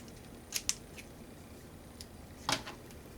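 Scissors cutting a paper card for an elephant pop-up card, a quick double snip early on and another crisp snip later, close and clear against a quiet room.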